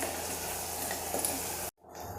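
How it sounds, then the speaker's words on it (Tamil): Brinjal frying in oil hisses with a steady, fairly quiet sizzle that cuts out briefly near the end before resuming more softly. "பாருங்கள், கத்திரிக்காயும் நல்லா எண்ணெயில் வதங்கட்டுங்க"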